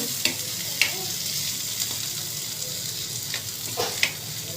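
Curry with tomatoes and cumin stirred in a hot pan, a continuous sizzle under scattered scraping strokes of the spoon, close and steady, with no talking.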